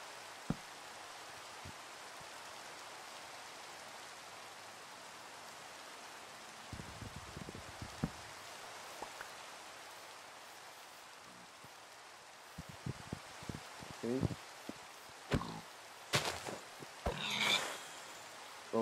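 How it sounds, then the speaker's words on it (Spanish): Steady rain hisses throughout in Minecraft, with scattered clicks and thumps breaking through near the end, no voices. "está lloviendo"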